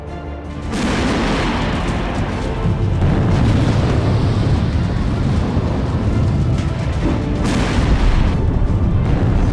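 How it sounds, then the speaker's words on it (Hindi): Continuous heavy explosions and booms from air strikes hitting Russian tanks on a battlefield, a dense, loud rumbling barrage that starts abruptly and keeps going with repeated blasts and no talking. "आसमान से टारगेट पर नॉन स्टॉप अटैक और जमीन पर तेज धमाकों के साथ तबाह होते रशियन टैंक।"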